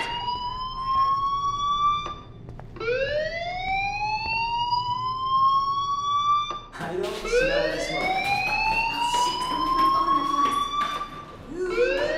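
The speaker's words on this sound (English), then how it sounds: "Hey, do you hear that fire alarm? That means you should be outside." A fire alarm wails in the video game Life is Strange, rising whooping tones that repeat three times at a moderate distance, steady and loud, with the third cycle layered over a second overlapping wail.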